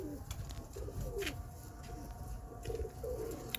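Pigeons at a breeder's loft in Faisalabad coo in low, soft, repeated phrases, with faint higher bird calls and steady background noise throughout.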